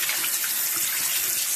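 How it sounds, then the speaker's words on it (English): Water running steadily from a tap into a sink during handwashing, a close, continuous hiss without talking. "First, I'm gonna wash my hands."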